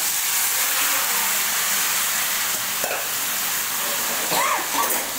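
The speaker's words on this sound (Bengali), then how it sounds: "বন্ধুরা, এবার আমি মাংসটাকে ছেড়ে দেবো।" Chicken pieces dropped into hot oil with cumin, bay leaf, dried chilli, garam masala and a little sugar, giving a loud, continuous hiss and sizzle close by with faint stirring clatter near the end.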